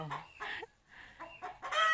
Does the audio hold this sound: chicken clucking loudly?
yes